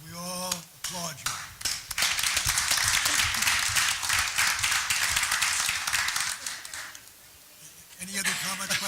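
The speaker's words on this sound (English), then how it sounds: "We all applaud you." Applause from attendees at a Hudson River Valley Greenway board meeting, a sustained burst of many hands clapping indoors for several seconds, with talk just before and after.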